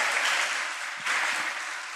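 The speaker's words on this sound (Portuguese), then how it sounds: "Vamos aplaudir de novo?" A congregation in a church claps, a brief burst of applause that swells twice and fades, moderately loud with a roomy, reverberant spread.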